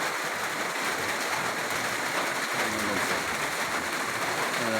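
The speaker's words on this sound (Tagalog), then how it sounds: "Para makita talaga na maulan" Steady hiss of rain falling, a constant broadband wash with faint patter throughout, no voices.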